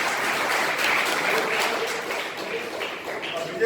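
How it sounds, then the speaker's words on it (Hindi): Loud, steady applause from an audience at a coaching institute ceremony honouring NEET 2020 qualifying students, sustained dense clapping that fades slightly toward the end. "जोरदार तालियां बजाइए"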